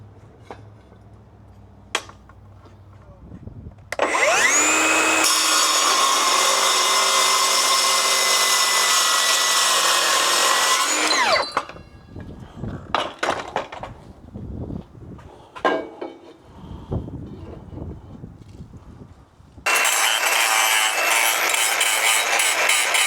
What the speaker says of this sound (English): These saws are great when you have a battery in them.